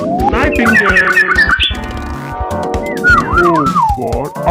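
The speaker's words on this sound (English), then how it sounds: "N for nightingale" A cartoon-style nightingale call in a children's alphabet lesson: loud, busy squawking and warbling bird notes with whistled rising and falling phrases, running continuously over a layered musical backing with no voice.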